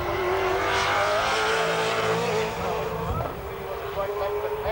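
A race car at the 1997 Bathurst 1000 braking hard into a corner, a steady engine roar that eases and shifts pitch partway through, with commentary talk over it.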